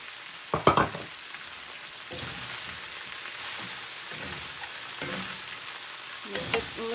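Chicken cashew stir fry with broccoli and cashew nuts sizzling in a cast iron skillet, with soft frying hiss broken by several scraping, clattering stirs of a utensil against the pan, close and moderately loud.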